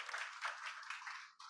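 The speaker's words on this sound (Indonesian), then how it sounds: "Beri tepuk tangan buat Tuhan Yesus." A church congregation claps during a worship service, a dense, steady wash of applause that keeps going for the whole stretch before dropping off briefly near the end.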